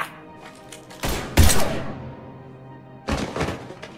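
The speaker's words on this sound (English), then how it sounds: "Now open fire!" Mass Effect 3 gunfire breaks out in short, loud bursts of shots and impacts, with a sharp burst, then a louder one, then another burst after a brief lull.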